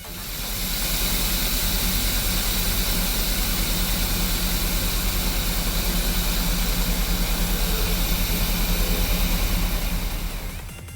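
A truck-mounted wood chipper's engine roars in a loud, continuous, steady drone with broad hissing noise throughout and no pauses.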